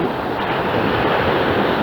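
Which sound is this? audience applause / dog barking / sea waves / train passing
sea waves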